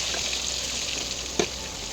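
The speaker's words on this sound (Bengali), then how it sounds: "কড়াইতে সরষের তেল দিয়ে গরম করে ভালোভাবে একটা একটা মাছ ছেড়ে দেবো" Fish sizzling as it fries in hot mustard oil in a wok, a steady bright hiss throughout with a brief louder crackle near the end, no voices.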